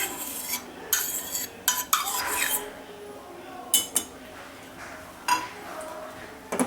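A spoon stirring unsalted butter into milk in a pot, with repeated metallic clinks and scrapes against the sides at an irregular pace, close and fairly quiet.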